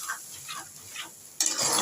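Leaf paste sautéing in a pan gives a soft sizzle with rhythmic scraping strokes of a spatula, then a sudden louder burst of frying noise near the end, close by and without speech.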